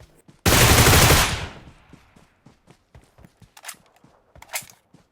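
A loud, dense burst of automatic gunfire in the video game PUBG Mobile lasts about a second, then fades into a quiet series of footsteps and a few sharp distant shots.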